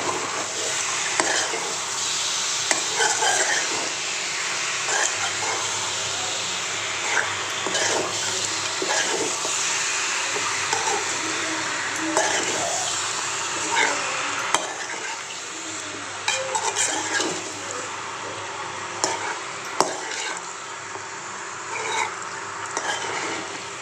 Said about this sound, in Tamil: கறியை சேர்த்துட்டோம் நல்லா கிண்டிக்கலாம்